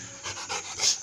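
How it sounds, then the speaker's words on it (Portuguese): A strong two-year-old Rottweiler pants in quick, rhythmic breaths close by. The panting is moderately loud and heard alone, with no voices. "cachorro de 2 anos de idade, muito forte, lindo, temperamento forte, mas super obediente"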